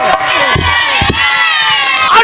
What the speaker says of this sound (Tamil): பாண்டிக்கு பிடிச்சது அந்த கும்மி சத்தமும் கொலவை சத்தமும் தான் பெண்கள்லாம் கைதட்டு உற்சாகப்படுத்து